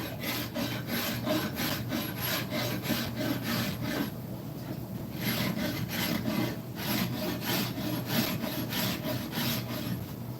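A farrier rasp files wood in steady back-and-forth strokes, a close, rhythmic rough scraping repeated about twice a second with a brief pause midway, with no talking.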